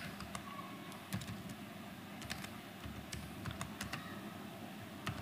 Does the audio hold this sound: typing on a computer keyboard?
yes